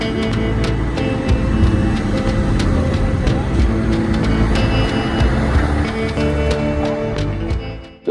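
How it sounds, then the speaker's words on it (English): A concrete truck stuck in sand rumbles loudly and steadily, its heavy engine drone running throughout with scattered sharp clicks and knocks before it cuts off abruptly. "It's great until one of your concrete trucks gets stuck in the sand."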